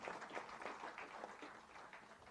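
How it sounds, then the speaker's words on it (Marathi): An audience claps for an honoured teacher at a book launch ceremony, a steady, dense patter of many hands that sounds faint and distant, with no voices on top. "सरांसाठी जोरदार टाळ्या."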